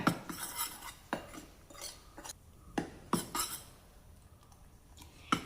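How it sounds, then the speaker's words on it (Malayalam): Wheat flour dosa batter stirred with a spoon in a bowl, giving a string of near, irregular clinks and scrapes against the sides with quiet pauses between strokes. "നമുക്ക് ഈ ഗോതമ്പ് മാവ് ഒന്ന് കലക്കിയെടുക്കണം."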